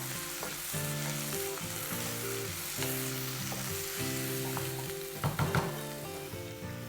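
Mashed eggplant for Khandeshi vanga bharit sizzles and fries in a pan, a continuous close crackle with occasional stirring scrapes and a brief louder clatter near the end; no one talks.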